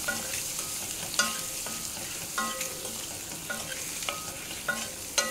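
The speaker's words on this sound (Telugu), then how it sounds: "కలర్ మారే వరకు వీటిని మీడియం ఫ్లేమ్ మీద వేయించుకోవాలి." Eggs fry with chili powder in a pan on a medium flame, giving a steady close sizzle broken by repeated scraping stirs of a spatula at irregular intervals.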